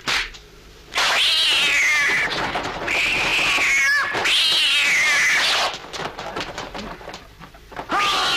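A cat meows and caterwauls in a French film, loud drawn-out wailing cries in three long bursts with brief gaps, close and alone without talk.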